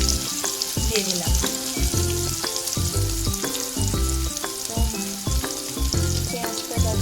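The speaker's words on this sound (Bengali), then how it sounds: "এবার এটা ততক্ষণ পর্যন্ত পেঁয়াজটা আমি ভাজবো" Sliced onions frying in oil with cinnamon, cardamom and cloves for a mutton curry, loud continuous sizzling with frequent sharp pops and crackles close to the pan.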